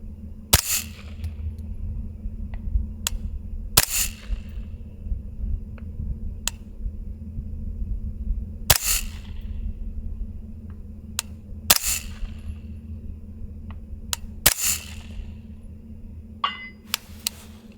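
Suppressed CMMG Banshee 9mm fired outdoors at a rocky target: about five sharp, muffled reports spaced a few seconds apart, with fainter ticks and impacts between them over steady low background rumble.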